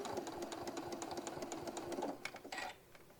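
A sewing machine top stitches a hobo bag, its needle running in a steady rapid rhythm close by for about two seconds before slowing and stopping with a few final clicks.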